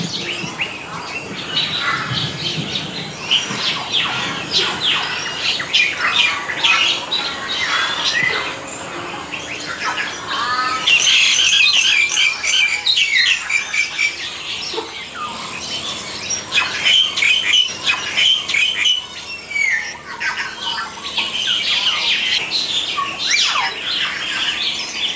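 Tropical birds call and chirp throughout a rainforest aviary at Jurong Bird Park during a heavy downpour, with dense overlapping tweets and squawks over steady rain noise.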